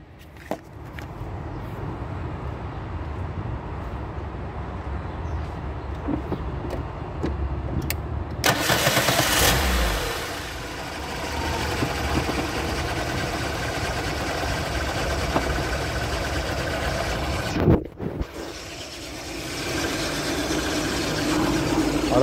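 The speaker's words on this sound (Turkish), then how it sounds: "Şimdi bir marşa basalım. İlk sesimiz nasıl duyulacak bir görelim." Petrol Lada car engine idling steadily, then a sharp burst as the starter engages and the engine catches, settling into a loud, uneven running idle close by.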